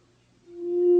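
A synthesizer oscillator produces a pure, steady sine-wave tone that swells from near silence to a clear, sustained hum over about a second, alone and without voices.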